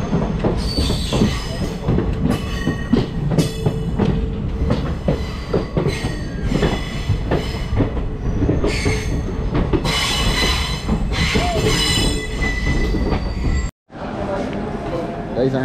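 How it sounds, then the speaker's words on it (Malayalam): Train pulling into Chennai Central station: loud, rumbling rail noise with squealing wheels and clattering cars, close by, with voices in the background and a brief dropout near the end. "നമ്മൾ വന്ന ട്രെയിനിൻ്റെ എഞ്ചിനാണ് ഗൈസ്"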